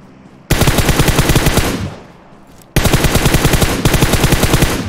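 Rapid automatic gunfire in the PUBG Mobile battle royale game, two loud sustained bursts of dense shots, the first fading after about two seconds, a short pause, then a second long burst to the end.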